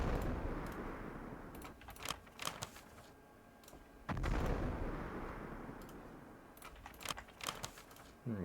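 Artillery guns fire in the CAOS Battle of Gazala war game, with heavy booms rolling out at intervals among sharper cracks and clicks.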